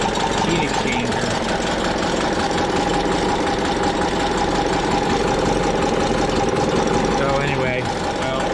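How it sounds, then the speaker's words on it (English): A 1961 VW Beetle engine idles with a steady, busy mechanical clatter and ticking, close and loud, holding an even rhythm throughout. "I'm just gonna let it idle a little bit"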